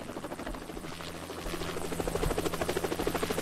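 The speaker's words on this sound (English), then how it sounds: "Alright, we're taking off again on a helicopter, though." A helicopter takes off in the Roblox video game, its rapid rotor chop pulsing continuously and growing louder toward the end.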